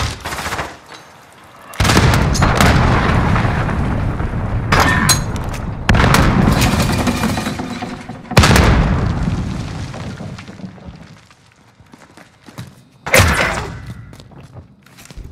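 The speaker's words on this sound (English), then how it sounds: "Allied cruise missile away." Cruise missile strike in Call of Duty: Modern Warfare hardcore Search and Destroy, several heavy booming blasts spaced a few seconds apart, each with a long rumbling tail, mixed with gunfire and loud throughout.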